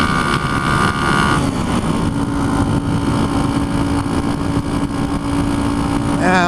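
A 1976 Honda CB125S motorcycle cruising steadily at about 40 with a loud, continuous engine drone and heavy wind rush close to the rider, the engine note shifting briefly near the end.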